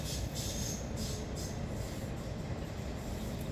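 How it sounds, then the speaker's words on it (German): A train rumbles past in the background, a steady low roar with faint wheel noise running throughout, no voices over it. "Es fährt gerade ein Zug vorbei hinten, aber ich glaube, es stört nicht so sehr."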